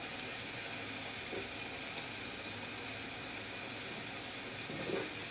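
Taro stolons frying with spices in a pan for a baila fish curry, a soft continuous sizzle with a few faint stirring clicks, quiet and close, no voices.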